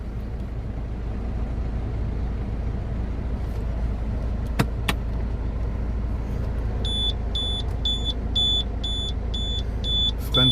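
A Citroën C4 Picasso idles with a low steady rumble while its open-door warning chime, a high electronic tone, repeats in a regular, rapid pulse toward the end.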